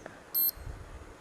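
Short electronic beep from a digital Al-Harameen clock as its middle button is held down, a single faint high tone over low background hum.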